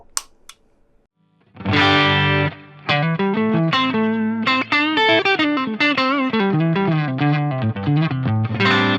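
An electric guitar through a RYRA The Klone pedal used as a clean boost with the gain off plays a melodic run of notes and chords, bright and full with a slight edge of grit, after a brief quiet start.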